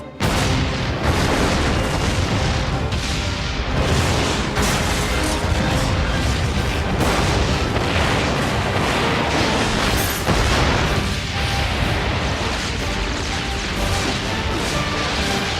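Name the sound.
explosions in an animated Batman series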